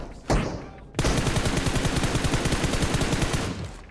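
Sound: enemy gunfire in a battle royale video game

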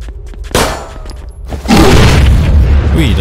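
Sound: barrel exploding in video game Zompiercer

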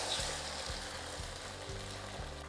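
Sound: beaten egg frying in a pan over medium heat

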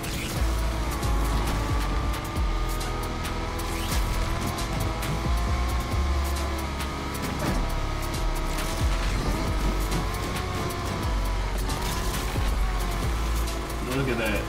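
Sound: Acura RSX-S '04 car racing in Need for Speed Unbound video game

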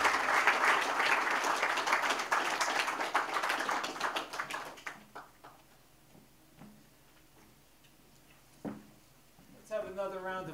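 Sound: audience applause at Woody Guthrie Prize ceremony

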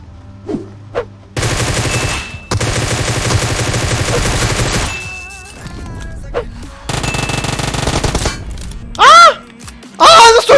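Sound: Groza rifle gunfire in video game PUBG Mobile

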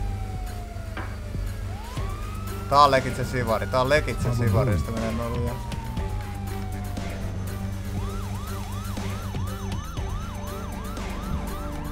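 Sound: police car siren in GTA RP video game

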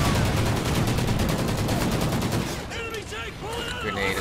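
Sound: gunfire in video game Call of Duty: Ghosts

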